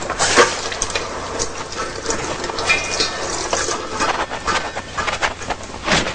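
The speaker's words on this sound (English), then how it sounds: "that one isn't even washed yet, so I'll quickly wash it" Celery stalks are rinsed under a running kitchen tap, giving a steady, moderately quiet stream of splashing water with brief bursts and spatters as the stalks move through the flow.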